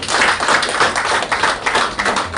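Brief burst of rhythmic clapping from an audience at a Korean political party joint meeting, loud and close, with claps pulsing unevenly for a couple of seconds.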